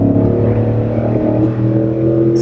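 A first-generation Ford Raptor with a Borla exhaust pulls hard at full throttle, a loud, steady, deep engine drone heard from inside the truck with no talk over it.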